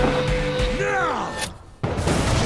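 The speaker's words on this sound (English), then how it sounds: "I know how to shape an explosion, Edgar." A dynamite blast in the video game Evil West arrives as a sudden loud burst after a brief lull, following a voice and tonal sounds, with rumbling noise continuing afterward.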